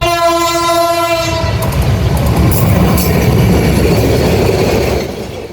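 A train pulls into a station with an overbridge. A loud, sustained horn blast opens, then a heavy rumble and rattling wheels fill the air close by before easing off at the end.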